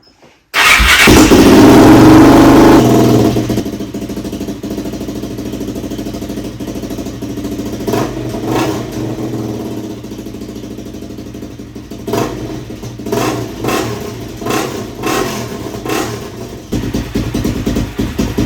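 A 2003 Suzuki LTZ 400 ATV engine with a missing exhaust gasket fires up with a loud burst, settles into a rough, loud idle, then gets several sharp throttle blips and revs.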